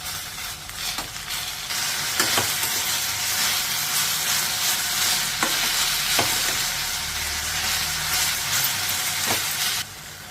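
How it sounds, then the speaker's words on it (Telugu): Mint leaves fry in a pan, giving a steady, loud sizzle that runs the whole way through. Soft scraping stir strokes cut into it now and then. "ఇప్పుడు పుదీనా అంతా మనకు మగ్గిన తర్వాత ఒక 2 నిమిషాలు ఫ్రై చేసుకుంటే సరిపోతుంది"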